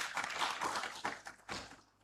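Scattered audience clapping at a conference opening ceremony, a handful of sharp claps rising and fading over a couple of seconds, fairly faint and distant.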